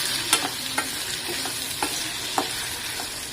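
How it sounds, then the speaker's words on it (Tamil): Black-eyed peas masala sautéed and stirred in a pan for a Tirunelveli-style tamarind curry, giving a steady sizzle broken by several sharp spoon scrapes and taps against the pan, close and moderately loud. "நல்ல கலர் சேஞ்ச் ஆகிற வரைக்கும் நல்லா ஃப்ரை பண்ணி விட்டுக்கிட்டே இருங்க."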